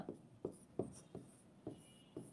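Marker or chalk strokes on a classroom board come as six rhythmic scratchy taps at roughly even intervals, faint and close, while a sentence is written out.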